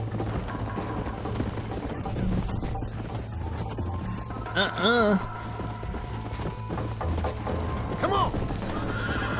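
Horses gallop and whinny in Red Dead Redemption, with steady hoofbeats under game music and a sharp neigh midway, followed later by another shorter whinny, while a character speaks briefly.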